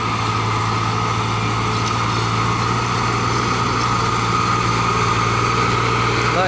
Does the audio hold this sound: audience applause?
no